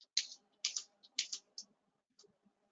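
Name typed on a computer keyboard in MATLAB: a few quick bursts of soft, close key clicks in uneven clusters, separated by short pauses, in a quiet room.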